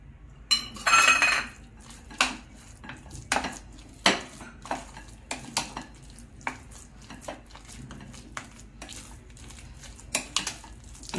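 A spoon clinks and scrapes against a bowl while semolina and yogurt batter is mixed with salt for rava idli, irregular taps and knocks spread across the clip, close and fairly loud, with no talking.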